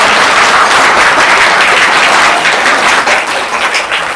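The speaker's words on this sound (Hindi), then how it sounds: "चलिए जोरदार तालियां जाए भाई।" Loud, dense studio audience applause on a children's quiz game show, a steady wash of many hands clapping that thins slightly toward the end, with no talk over it.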